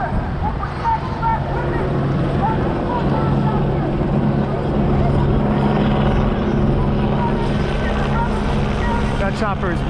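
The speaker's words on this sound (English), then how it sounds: "That chopper is maybe 250 feet up." Low-flying police helicopter circling over a city protest area with rooftop snipers and riot police, a steady loud rotor drone throughout, with crowd voices and talk over it.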